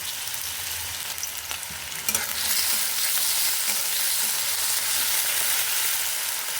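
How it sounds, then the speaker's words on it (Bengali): Potatoes fry in hot, smoking oil in a wok, a dense steady sizzle that swells louder after a brief stir and scrape, continuing unbroken and close. "এই আলুগুলোকে কিন্তু একদম লাল লাল করে ভেজে নিতে হবে।"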